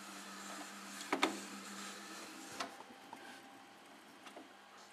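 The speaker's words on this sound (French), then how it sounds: "L'imprimante va travailler." Epson SX130 inkjet printer fitted with refillable cartridges working, a quiet mechanical hum with scattered clicks and ticks from its moving parts, close by.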